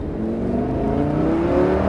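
A loud race car engine revs continuously at high pitch at full throttle on the Nogaro circuit, its tone climbing steadily as the car accelerates hard, no voices present.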